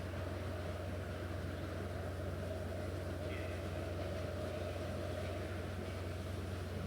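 A stopped train in the SimCity 4 city-building game gives off a steady, even low rumble and hum that holds at one level throughout, with no talk over it.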